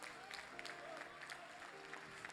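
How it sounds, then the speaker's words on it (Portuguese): Congregation in a church service applauding, dense scattered clapping with louder bursts, moderately distant and continuous across the short stretch. "Se for para Jesus, aplaude mais forte."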